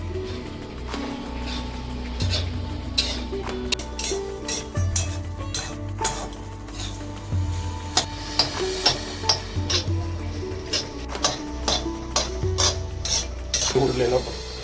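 A metal spoon stirs and turns kanda poha in a pan, scraping and clinking in irregular taps against the metal alongside a faint sizzle, close by with no voices.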